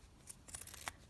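Scissors snipping old craft supplies for heart clusters, a few quick close crisp cuts in a quiet room.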